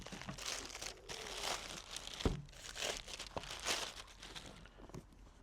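Crinkling and tearing of a heavily taped-up parcel holding a Wolfbox G900Pro, a steady close run of rustles and rips with a few sharper snaps.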